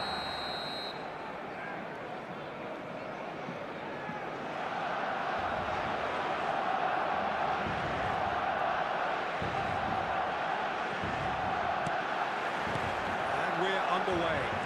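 Stadium crowd noise in an eFootball match: a steady, dense roar of a full crowd fills the whole stretch and swells partway through.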